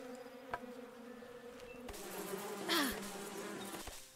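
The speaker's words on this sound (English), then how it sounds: "those bees are really giving me some" Bees buzzing in the video game Above Snakes, a steady insect drone with a louder swell near the middle, plus a few sharp clicks from game action.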